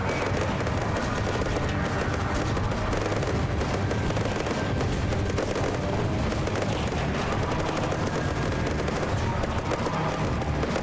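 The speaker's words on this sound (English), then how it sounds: "There was a lot of good shots going off there." Dense, continuous gunfire and explosions from a video game battle in Badlands Crew fill the whole stretch, loud and unbroken, with rapid overlapping shots and booms and no clear talk.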